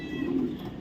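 White racing pigeons of a foreign bloodline, young birds, give a low, soft cooing that swells and fades over less than a second, close by and steady with no voices over it.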